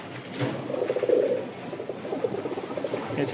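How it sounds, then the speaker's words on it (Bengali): A pair of feather-footed flying pigeons, new adults, coo in soft, low, rhythmic murmurs that repeat steadily and close by with no talking. "খুব ভালো কবুতর, উড়ানোর জন্য বেস্ট"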